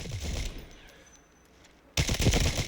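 A .50-caliber weapon firing 12.7x55 rounds in the Delta Force video game fires loud, dense bursts at the start and again after a short quiet gap, with no talking.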